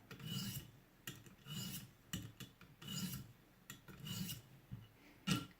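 A recurve knife edge is drawn across a 600-grit stone on a ViperSharp sharpener in slow, even rasping passes, roughly one per second, quiet and close, with a few faint clicks between strokes and no voices.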